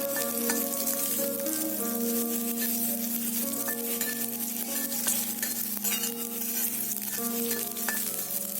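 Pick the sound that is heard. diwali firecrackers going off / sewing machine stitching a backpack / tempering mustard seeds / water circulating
tempering mustard seeds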